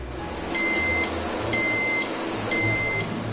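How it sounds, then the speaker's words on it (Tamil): A Geek Robocook electric pressure cooker signals the end of cooking with three evenly spaced, loud, high electronic beeps, each about half a second long, over faint room noise. "முடிஞ்சவொடனே ஒரு பீப் சத்தம் வரும்."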